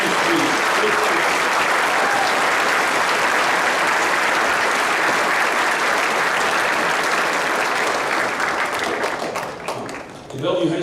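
Sustained, loud applause from a large audience at a community Veterans Day assembly fills the hall for about ten seconds, dense and steady, thinning briefly near the end before a last swell of clapping.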